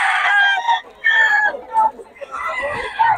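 A young bull stag rooster crows in a few harmonic, strained bursts, close and fairly loud, with a crowd or auction setting implied by the surrounding market banter and no talk inside the clip itself.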